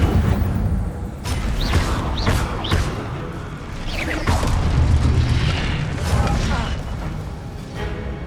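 In the video game Hogwarts Legacy, the Incendio fire spell is cast in repeated bursts of whooshing flame, with booms and crackling pops layered over busy game ambience.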